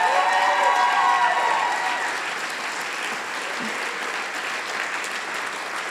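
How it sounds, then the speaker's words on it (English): A crowd at a national finals event applauds and cheers, starting loud and then settling into steady, slightly softer clapping that lasts throughout. "I see you got a really good cheering crowd out there"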